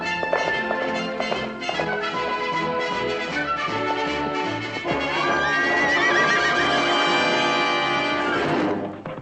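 Film scene of a horse neighing with hoof clip-clops, set against a dense, continuous orchestral score that stays loud throughout and cuts off near the end; the horse sounds sit inside the music rather than standing alone.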